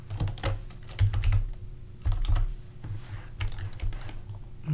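Fast computer keyboard typing of shortcut keystrokes, a close run of clattering key presses in irregular bursts with brief gaps, no voices.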